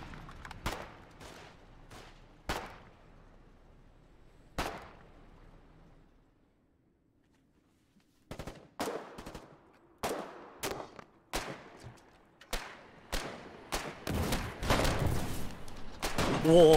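Gunfire in the video game Foxhole, with sharp shots coming singly and in uneven bursts, followed by a quiet stretch and then a denser run of shots and impacts toward the end.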